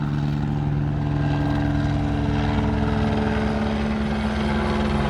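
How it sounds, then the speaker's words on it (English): A police helicopter hovers close overhead, its rotor thumping in a steady, loud drone with a strong low engine hum and no pauses across the whole stretch. "It's a police helicopter."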